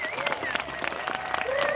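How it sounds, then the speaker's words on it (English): Festival crowd applauding and cheering outdoors at an Extinction Rebellion event, a steady patter of clapping with whoops and voices mixed in throughout the short stretch. "Could we just have another round of applause, please?"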